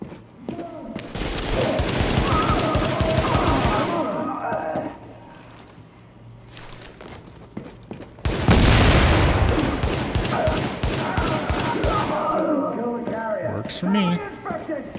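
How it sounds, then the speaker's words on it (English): Pistol shots in The Division ring out in a rapid run of sharp cracks amid game effects, with a louder burst of fire later and someone talking over much of it. "we'll be using a pistol here"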